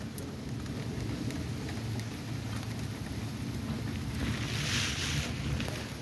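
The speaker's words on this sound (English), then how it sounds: "And we're getting some rain." Steady rain falls outdoors as a dense, even hiss of drops spread across the whole stretch, with a low rumbling background and no voices.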